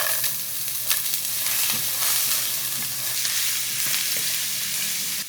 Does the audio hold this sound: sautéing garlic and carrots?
yes